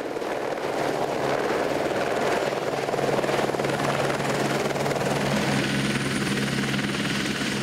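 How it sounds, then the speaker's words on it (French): A helicopter flies close by, its rotor and engine producing a loud, steady droning roar that continues unbroken for the whole stretch, with no other sound rising above it. "Séquence hélicoptère."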